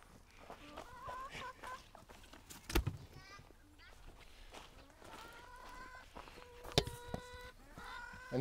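Chickens in a pen bedded with deep litter mulch cluck and call in short bursts, near and moderately loud, with footsteps and a person talking among them.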